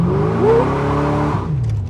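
Corvette C4 with a 5.7-litre American V8 revs up from a rumbling idle, its pitch climbing and then easing back down as a continuous, loud, close engine roar.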